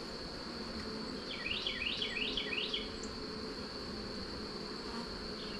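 Bees buzzing around a packed beehive colony during a yard hive inspection, a faint steady drone with a brief closer burst of wingbeats near the middle, no talk.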